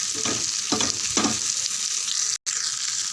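Sankara fish frying in hot oil, a bright continuous sizzle with a few soft stirring or turning thumps near the start and a brief dropout, no talking.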